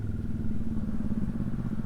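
A motorcycle engine runs at a steady mid-pitched throb nearby on a muddy road under construction in Lopez, Quezon, moving slowly, with faint clattering over the continuous engine note.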